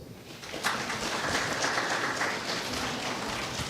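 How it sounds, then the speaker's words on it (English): An audience claps for the winner of a Best Cinematography award at the Film Aid Film Festival, a steady wash of applause that swells slightly after the first half-second and holds without talk. "please put your hands together for the winner"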